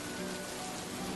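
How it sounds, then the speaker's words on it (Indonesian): Heavy rain pours down in a steady, dense hiss, loud and close, with no gaps and no voices. "Tiba-tiba hujan deras."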